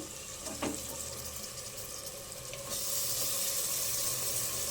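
Washed boti, beef tripe, drops into a hot pan for curry and sizzles steadily, the frying hiss swelling louder partway through and holding as a broad, even crackle with no talking.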